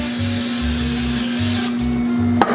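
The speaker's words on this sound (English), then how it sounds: "what I'm gonna do first is add some cooking spray" A burst of cooking spray hisses into a skillet for a second or two over a steady background hum, then stops with a small clunk.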